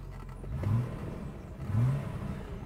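A Mercedes-Benz 500 SEL's V8 engine runs close by, rising in two brief revs over a steady low idle rumble, with no talk over it.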